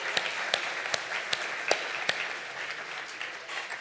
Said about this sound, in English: we first need to do one more round of applause for all of the CFO finalists in the room